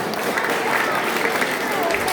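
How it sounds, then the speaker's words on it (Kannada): Children clap loudly together in a temple gathering, a dense, continuous burst of applause that sounds close and fills the space. "ಜೋರಾದ ಚಪ್ಪಾಳೆ ಬರಲಿ ಮಕ್ಕಳ"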